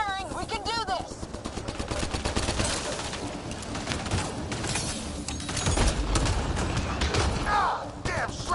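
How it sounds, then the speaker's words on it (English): Rapid bursts of gunfire in the PS5 game Mass Effect: Andromeda, dense automatic shots and thuds overlapping with chirpy sci-fi weapon effects, loud and continuous, with shouted voices in the fight. "Just keep firing, we can do this!"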